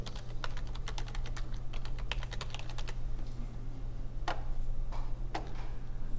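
Quick bursts of key clicks on a computer keyboard as a short password is typed, close and fairly quiet over a constant electrical hum, then a few isolated louder keystrokes.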